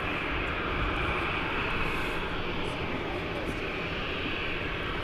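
An aircraft taxiing out at Manchester Airport gives a steady, continuous engine roar that fills the whole stretch without easing off.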